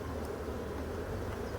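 Honeybees in a crowded, nervous hive give a dense, continuous buzzing hum, close and steady, with a few sharper wingbeats standing out now and then.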